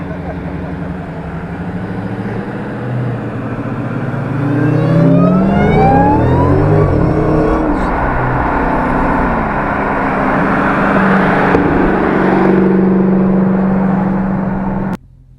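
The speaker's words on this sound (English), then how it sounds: "I can hear that damn supercharger" A supercharged car engine under steady acceleration, its supercharger whine climbing in pitch as it builds, loud and close, cutting off abruptly at the end.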